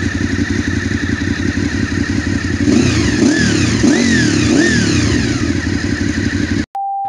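Motorcycle engine running at a steady, loud idle with a throbbing beat, then revved several times in quick rising and falling blips before it cuts off abruptly into a brief tone.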